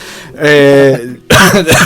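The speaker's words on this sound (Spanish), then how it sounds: "Perdón, la tos." A person coughs and clears their throat up close, a harsh voiced burst followed by a second rougher cough.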